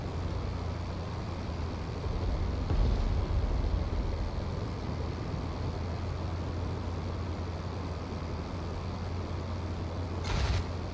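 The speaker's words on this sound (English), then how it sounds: "His engine is struggling." Engine of a WWI-era Sopwith Camel biplane in the Flying Circus flight sim, droning low and steady throughout, struggling, with a brief surge near three seconds and a short hiss burst near the end; no talking.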